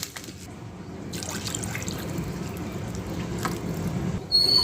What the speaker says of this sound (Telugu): ఇప్పుడు వాటర్ పోసుకుందాం. 2 గ్లాసులు వాటర్ పోసుకుందాం.